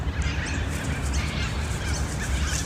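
Several birds call and chirp outdoors against a steady background hum, with short overlapping calls spread through the whole stretch and no talking.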